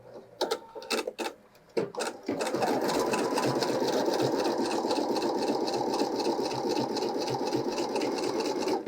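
Pfaff Creative Icon 2 embroidery machine stitching out a flower design: a few short bursts of clatter, then a continuous fast, even needle hum at close range.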